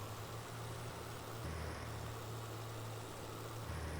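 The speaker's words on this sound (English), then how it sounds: "we'll hook it up to the Deutz tractor and have the Deutz do all the spreading of the fertilizer" Deutz tractor in Farming Simulator 22 pulling a heavy fertilizer spreader cart across a back field, a steady low engine drone holding constant throughout, with no voices.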